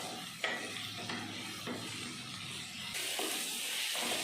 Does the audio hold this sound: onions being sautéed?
yes